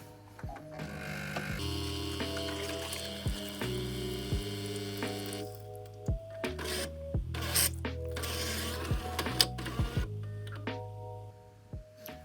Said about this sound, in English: go over to rinse the coffee system, click OK on that, and the machine will rinse by itself.